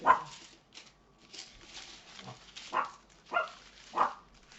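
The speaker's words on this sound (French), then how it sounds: "Vous allez entendre mon chien aboyer." A dog barks several times in short, sharp yaps spaced irregularly, fairly close, with brief quiet gaps between.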